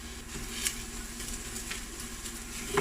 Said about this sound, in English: And I'm gonna fry these for a few minutes.